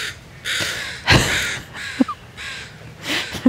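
Crows cawing outdoors during a windy yoga session, a series of loud, harsh repeated caws in irregular bursts, fairly close, over a breezy background.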